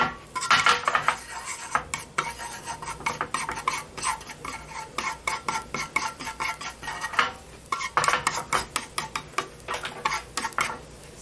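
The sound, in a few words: stir-frying stone-ear mushrooms with sesame oil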